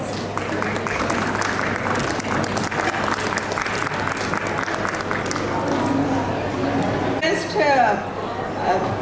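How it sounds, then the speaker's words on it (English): An audience at a book launch at the World Book Fair, Pragati Maidan, gives a steady round of applause that fades toward the end as voices and chatter take over. "Huge round of applause please"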